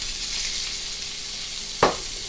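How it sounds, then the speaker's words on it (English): Caramelized onions and garlic with potatoes frying in a pan on a stovetop, a steady hissing sizzle close by, with one brief scrape or knock near the end. "And I'm going to throw in the caramelized onions."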